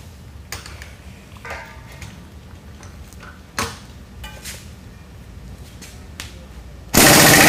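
An impact gun fitted with a special tool works during a CS-1 sifter rebuild. A few scattered clicks and knocks come first, then a sudden loud, harsh rattling burst at close range.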